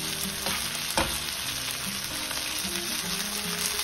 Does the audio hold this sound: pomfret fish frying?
yes